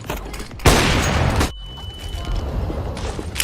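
A grenade explodes in CS:GO with a loud, close blast. A dense burst of noise lasts almost a second and then cuts off sharply. Quieter gunfire and mechanical clicks follow.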